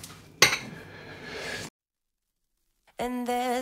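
A wok pan on a stove clinks and clatters up close for about a second, then goes silent. Metallic rattling returns near the end, with a faint tonal sound mixed in.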